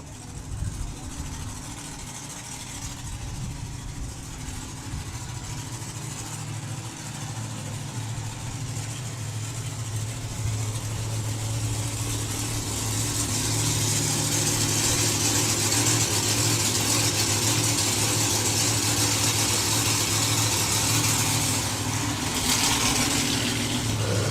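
Super Pro class drag racing cars at a Summer Nationals drag racing meet, heard as a steady, loud mass of engine rumble and idling that swells louder midway and holds, with no talk over it.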